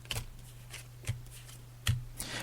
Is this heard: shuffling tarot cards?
yes